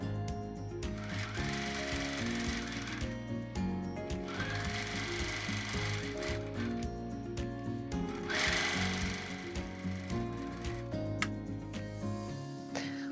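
A sewing machine stitches rows of a nine patch quilt block in bursts of steady rapid whirring, stopping and restarting several times, close and clear with no talk.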